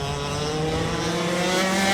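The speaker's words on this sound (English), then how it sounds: "Some in two-stroke engine karts that can reach a staggering 110 kilometres per hour." Two-stroke racing go-karts capable of around 110 km/h scream steadily around a track, a loud continuous high-pitched engine whine with rising pitch and faint tyre noise, no voices.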